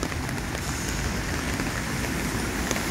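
Heavy downpour over Keçiören, Ankara, a dense, steady hiss of rain filling the whole stretch evenly and closely, with no voices.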